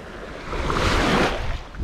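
Sea waves wash onto a beach at Agia Thekla in Cyprus, a loud close surge of surf swelling and hissing as it breaks, with breezy wind noise around it.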